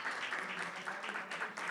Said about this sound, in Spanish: Un aplauso para los tres, por favor.